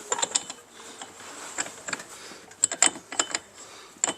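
Ratchet wrench tightening an axle nut on a 1997 Pontiac Grand Prix, a run of quick metallic clicks in uneven bursts, close and clear with no talking.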